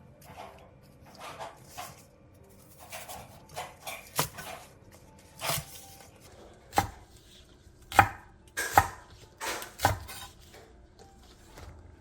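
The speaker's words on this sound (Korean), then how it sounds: "대파 1개를 길게 반으로 갈라 3cm 정도 길이로 잘라주세요." A knife chops a stalk of green onion, split lengthwise and cut into short pieces, on a cutting board with a series of crisp, irregularly spaced thuds, close and clear, with no talking.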